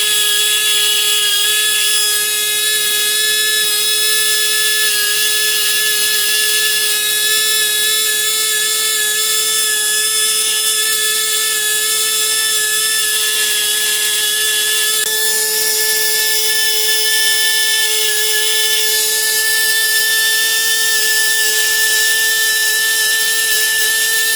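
Steady, loud high-pitched whine of a small rotary bur boring holes through an alabaster cube bead for a necklace, running continuously with only slight shifts in pitch as it works slowly through the stone.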